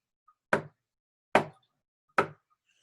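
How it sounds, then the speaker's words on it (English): Three sharp thumps on a door, evenly spaced about a second apart, close and distinct against silence, like heavy knocks. "she heard a thump on the door"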